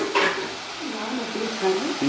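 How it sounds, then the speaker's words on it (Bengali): Onions and pieces of catla fish frying in oil in a pan for a Bengali-style fish kalia, a steady close sizzle with soft stirring scrapes throughout. "এবার ভাজা হচ্ছে"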